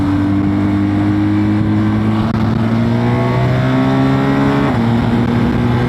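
A BMW R1250GS motorcycle with a liquid-cooled 1254cc twin-boxer engine accelerates hard, its loud, close drone rising steadily in pitch through a gear change with quick-shifter upshifts.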